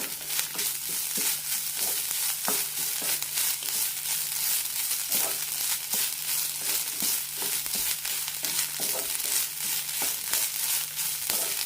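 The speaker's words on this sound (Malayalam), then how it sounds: "തേങ്ങ ഒന്ന് ചെറുതായി ചോക്കുന്നത് വരെ വഴറ്റിയെടുക്കാം" Grated coconut, chopped garlic and ginger sautéing in a hot pan, a steady close sizzle with scattered crackles and the occasional stir of a spoon, no voices.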